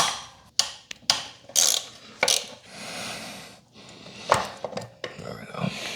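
Metallic clanks, ratchet clicks and tool knocks from pulling the starter motor off a scooter in a Baja buggy-style build, sharp irregular hits and brief bursts, close up, with no talking.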